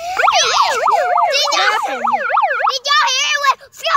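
Wailing emergency siren from a toy rocket launcher, loud and continuous with rapid rising-and-falling sweeps that shift pattern partway through, with a voice and other talk mixed in underneath.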